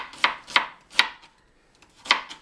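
A sharp knife slices through an onion on a board for French onion soup, giving four crisp, close chops in an uneven rhythm with a short pause before the last one.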